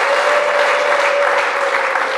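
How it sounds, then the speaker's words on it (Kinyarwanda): A wedding crowd breaks into steady, dense applause, many hands clapping together close by for the whole stretch without letting up. "Amashyi."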